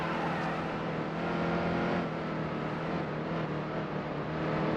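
Stock cars roar around the track in NASCAR Heat 2, a dense, continuous engine drone with steady pitch that stays loud and close throughout, without pauses.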